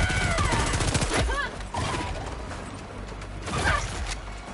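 Continuous loud gunfire from a weapon in Helldivers 2, dense rattling shots over a busy battle din with mechanical clicks, lasting throughout.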